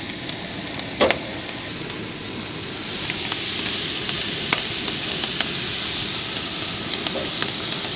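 Banana frying in plenty of butter on a camping hot plate, a steady close sizzle with broadband hiss that swells slightly midway, broken by a few sharp pops and spatters, with no talking.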